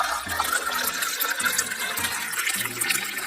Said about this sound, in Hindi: तभी विवेक जाकर पानी लाता है और भानुमति के हाथ पर डालता है।